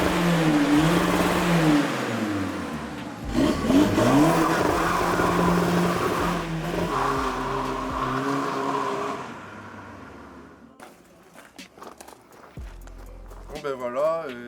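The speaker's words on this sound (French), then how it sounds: "si vous voulez je la démarre pour avoir un petit peu le bruit et peut-être un petit rupteur" A stock first-phase SEAT Cupra 6L's engine turns over and revs, with loud engine roar and rising pitch sweeps through the first half, people talking over it, then the revs settle before a sharp final burst.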